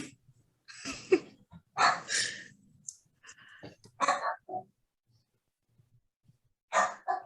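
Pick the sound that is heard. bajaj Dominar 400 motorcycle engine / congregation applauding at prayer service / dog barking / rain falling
dog barking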